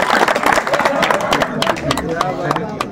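Audience at a book launch and poetry gathering claps to welcome the young men, steady dense clapping throughout, mixed with crowd murmur and voices.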